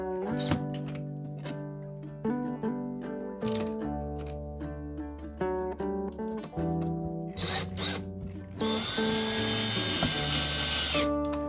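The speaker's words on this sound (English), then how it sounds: "So now I can take this to the drill press and drill these holes" A drill press bores holes in wooden drawer fronts, its motor whining in steady bursts with gaps between passes, close and clear, ending in a louder stretch of high-pitched cutting.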